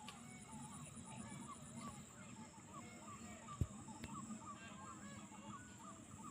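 Village birds call at dawn, led by goose-like honks and fowl cries over a continuous chorus of smaller chirps, fairly distant and quiet, with one brief knock partway through.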